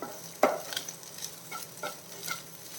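A spatula stirs a spinach and egg mixture in a hot pan on the stove, giving a few scraping strokes over a soft, steady sizzle, close and moderately quiet.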